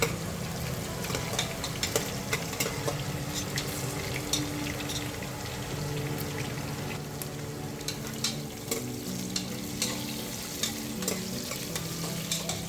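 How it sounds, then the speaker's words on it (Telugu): Onions being fried and stirred in a pan for plain biryani produce a steady, close sizzling hiss with frequent scraping stir noises throughout, with no talking. "ఉల్లిపాయలు కూడా ఇప్పుడు వేసేస్తాను. ఉల్లిపాయలు కూడా కొంచెం వేగాలి."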